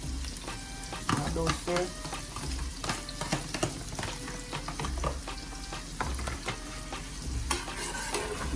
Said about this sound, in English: And then we just saute that around a little.